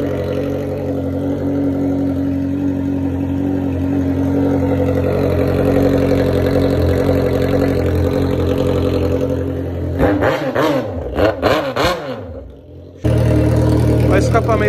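Yamaha XJ6 motorcycle with an open exhaust pipe and no muffler, idling with a steady deep rumble, then blipped in several sharp revs before it dips and returns to a loud idle.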